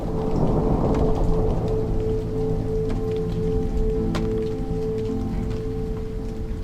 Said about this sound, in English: we drove into a quickly growing storm